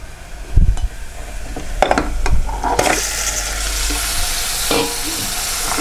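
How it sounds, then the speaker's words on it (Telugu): Mutton tipped into a pot of fried onions: a couple of thuds and clatters, then a louder, steady sizzle that carries on under occasional scraping stirs, close up with no voices. "ఇప్పుడు ఇందులో మనం మటన్ వేసుకుందాం."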